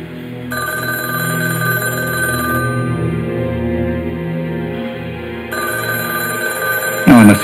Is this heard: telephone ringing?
yes